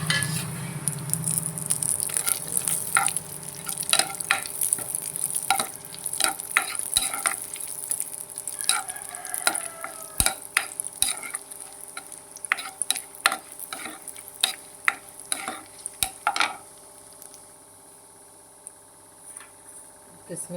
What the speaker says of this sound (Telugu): నెయ్యి వేడెక్కింది. ఇప్పుడు జీడిపప్పు, బాదం వేయించుకున్నాను.